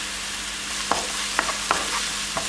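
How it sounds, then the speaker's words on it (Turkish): Onions frying in melted butter in a pan, a continuous soft sizzle with several sharp stirring clicks and scrapes spaced across it, close and alone without talk. "Yağımız eridi. Yakmadan soğanımızı tavama koyuyorum."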